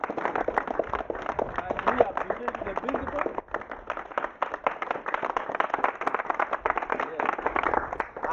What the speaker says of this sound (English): And can we clap for them?